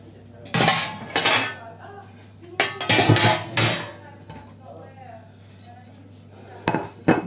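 A plate lifted with cutlery on it clinks and clatters in a few close, bright bursts, separated by quieter gaps, with faint voices in the background.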